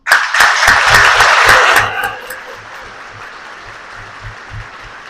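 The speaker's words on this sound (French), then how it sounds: "On vous applaudit." Loud, dense applause from a gala audience at an awards dinner, sustained for about two seconds and then fading into quieter room murmur with occasional scattered claps.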